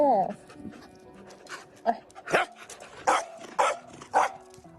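A border guard service dog barks in short sharp bursts, about five in a row, with panting and background noise between them and some voices nearby.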